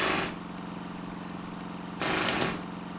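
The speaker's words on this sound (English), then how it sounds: "It was the compressor that powered the pneumatic drill." In Broken Sword 3, a compressor driving a pneumatic drill chugs with a rapid mechanical rattle, broken by two louder hammering bursts at the start and again near the end over a steady hum.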